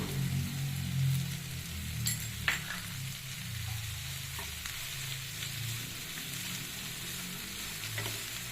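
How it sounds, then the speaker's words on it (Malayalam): Sliced onions fry in a pan for chicken fry with a constant, low sizzle, occasional spoon scrapes and a few light clicks, fairly quiet and without voices. "ഇത് നല്ലോണം ഫ്രൈ ആയി വരണം. സവാളയെല്ലാം നല്ലോണം മൂത്ത് ലൈറ്റ് റോസ് നിറം ആവണം."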